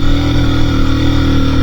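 A motorbike engine labours loudly and steadily at close range in low gear while climbing a steep, potholed mountain turn on the route to Ganga Choti from Islamabad.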